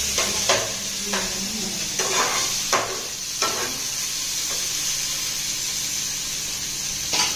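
Steady sizzling of onions and tomatoes frying in oil in a pan, with a continuous hiss broken by several soft scraping stirs near the start.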